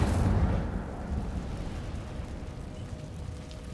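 An Incendio fire spell cast inside a cave in Hogwarts Legacy opens with a sharp fiery burst, then fades into a low crackling rumble.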